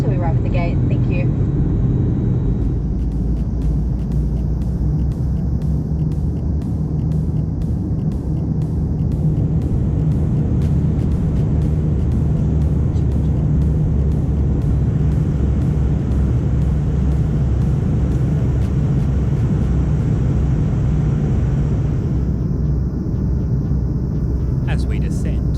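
Steady, loud cabin roar inside a Virgin Australia Fokker 100 airliner descending toward Perth, a deep continuous engine and airflow drone with faint high ticking, unbroken throughout.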